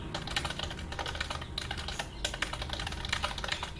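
Fingers type steadily on a computer keyboard during a typing speed lesson, a dense stream of close, crisp key clicks with small irregular bursts and no talking.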